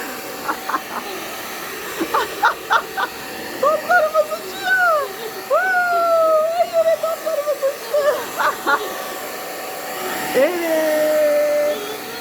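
A hair dryer blows coloured balls into the air with a steady, whooshing hum, while children's voices chatter and squeal over it.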